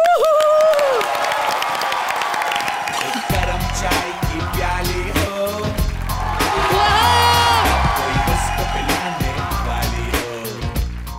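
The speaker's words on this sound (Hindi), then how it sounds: "जोरदार तालियों के साथ स्वागत कीजिए" A studio audience on a Hindi television comedy show welcomes contestants with loud, sustained applause, cheering and whoops, layered over upbeat music throughout.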